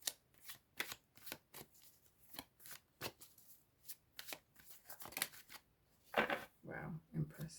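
Tarot cards being shuffled close up, a run of quick riffling flutters and soft snaps at an irregular pace, with a voice speaking quietly alongside toward the end.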